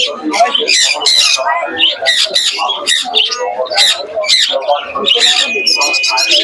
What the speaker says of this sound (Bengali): দেখুন প্রচুর পাখি প্রচুর দেখুন কৃষ্ণনগর দেখুন